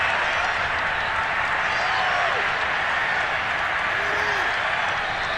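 Steady crowd applause and cheering in the Madden 22 football video game fills the whole stretch, a continuous wash of clapping with faint whistles rising above it.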